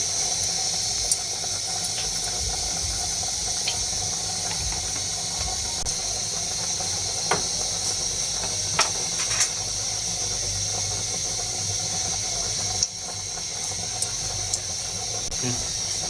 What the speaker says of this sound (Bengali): কড়াই গরম হয়ে গেছে। এখন আমি দিয়ে দিব পরিমাণ মতো সয়াবিন তেল।